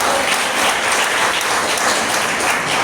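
A church congregation applauds Jesus Christ during a sermon on the resurrection, with loud, dense, steady clapping filling the whole moment.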